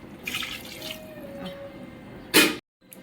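Water splashes and trickles into a pot of country chicken for biryani, with a short, louder gush near the end before everything cuts to near silence.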